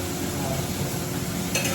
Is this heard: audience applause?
no